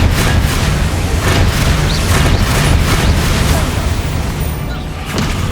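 Spell blasts in Hogwarts Legacy, a loud continuous barrage of booms and bursts with rumbling low end, dense and close, with voices shouting over the explosions.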